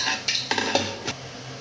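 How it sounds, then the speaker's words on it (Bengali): Utensil scraping and clinking against a cooking pot as fatty mutton curry is ladled into a bowl, a few close metallic knocks and scrapes over a steady background hiss. "তো আমি মাটন তুলে নিচ্ছি বাটিতে কিছুটা।"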